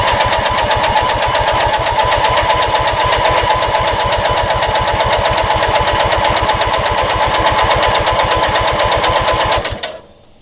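A vintage Montgomery Ward garden tractor's small engine, with a restored fuel system, runs loudly with a fast, steady pulsing beat for about ten seconds, then cuts out and falls silent.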